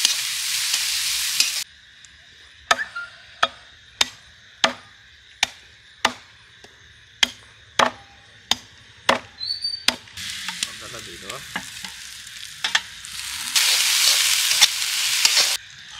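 Garlic chopped and crushed on a board in a steady run of about a dozen sharp knocks, framed by bursts of loud sizzling as food fries in a hot pan before and after the chopping.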